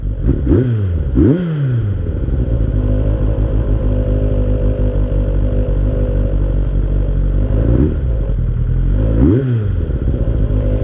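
A 2003 Kawasaki ZR7S motorcycle engine idles loudly and close, then is revved several times in rising and falling sweeps, with a steady engine drone between revs and no talk.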